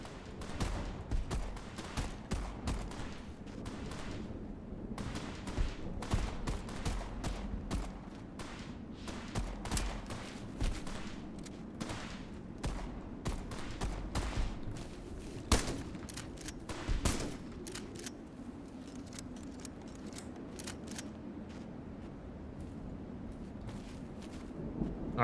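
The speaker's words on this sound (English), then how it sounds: "Oh, this is a shotgun." A shotgun firing in a video game, heard as a long run of loud, closely packed blasts and booms that keeps going without pause and without talk.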